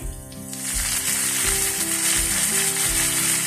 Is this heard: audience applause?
no